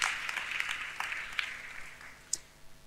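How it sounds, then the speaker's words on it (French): A small audience claps in a brief, fairly quiet burst of applause that gradually thins out, with a few sharper individual claps near the end. "On suit les gens qui applaudissent comme ça, quand quelqu'un commence à applaudir"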